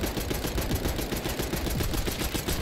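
Sustained automatic gunfire in Black Ops 6, a steady rapid stream of close, loud shots laid down without pause.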